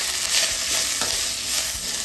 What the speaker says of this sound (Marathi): त्याच तेलामध्ये आपण कढीपत्ता सुद्धा भाजून घेऊया, तळून घेऊया